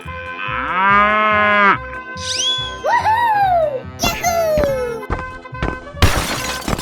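Cow in a 3D animal slide game lets out a long, loud moo, followed by other cartoonish animal calls and a burst of crashing noise at the end.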